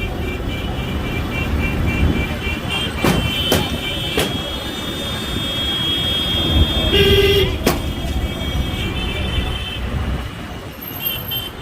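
On a busy Kolkata road, traffic police strike buses and auto-rickshaws with sticks, making a few sharp, separate cracks over constant traffic rumble and scattered horn toots.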